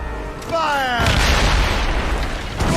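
Ship cannons in the Assassin's Creed Rogue naval battle boom out in a heavy, sustained volley, layered over wind, creaking sails and shouted crew orders.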